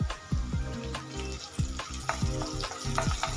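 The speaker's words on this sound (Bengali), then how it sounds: "পেঁয়াজটা ভেজে নেব।" Chopped onion frying in a pan for a Bengali vendi (okra) recipe, with ginger strips already added, gives a steady close sizzle broken by repeated stirring scrapes and clinks in an uneven rhythm.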